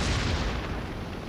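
Heavy boom of shells bursting as warships shell islands in a naval combat game, one deep rolling blast that fades slowly over a second with no talk.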